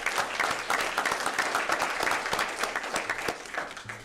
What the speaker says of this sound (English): let's give Cecilia a round of applause